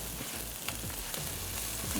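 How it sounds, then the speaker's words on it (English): Onions, garlic and broccoli fry in a pan, giving a continuous, dense sizzle that stays close and steady throughout with no voices. "once the onions and the garlic have been sizzling for a bit, let's add the vegetables"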